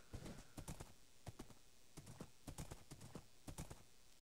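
Steady rhythmic clip-clop of horse hooves in a farming video game, crisp repeated double knocks at an even walking pace, loud and close without talk.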